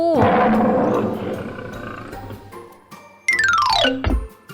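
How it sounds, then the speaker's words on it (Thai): A lion roars loudly outside a door in an animated children's story, one long deep rumbling roar that fades, followed by a rising whooshing sound effect. "มีสิงโตอยู่นอกประตู"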